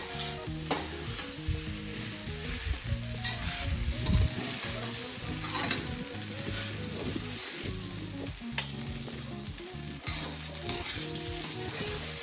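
Poha stir-fried in a pan in a village kitchen gives a loud, continuous sizzle, with repeated spatula scrapes and clinks against the metal throughout and no speech.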